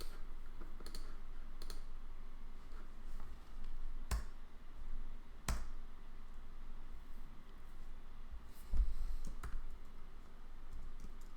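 Computer keyboard typing at a desk during a programming session: a few sparse, sharp key clicks over a steady low background hiss, with no talking.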